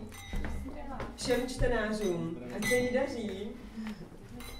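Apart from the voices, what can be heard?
glasses clinking in a toast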